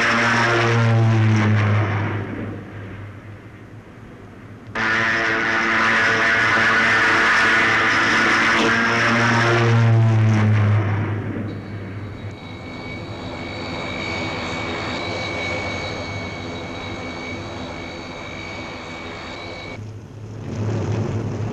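French Vautour jets and Alizé propeller aircraft roar loudly overhead in two sustained passes, with a steady engine drone and a high whine lingering afterwards.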